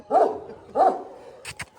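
A Kangal dog barks twice nearby, evenly spaced about half a second apart, followed by two short sharp yips or clicks.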